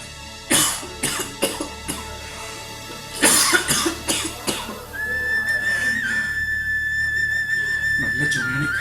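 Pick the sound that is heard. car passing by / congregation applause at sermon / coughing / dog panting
coughing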